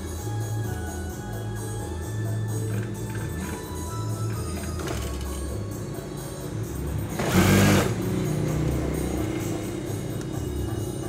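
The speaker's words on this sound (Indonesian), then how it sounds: "lalu jahit yang samping, ini juga jahitan bantuan ya" An electric sewing machine stitches the side seam of a pair of trousers, its motor running in a steady close drone with rhythmic needle chatter and a brief louder burst near the end.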